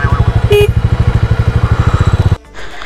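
A motorcycle engine idles and chugs with a steady, fast pulsing throb on a sandy road near a gate in coastal Konkan, loud and close, before cutting off abruptly; a short high beep sounds early on.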